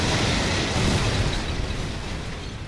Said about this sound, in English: And good old Carl's gonna blow that up.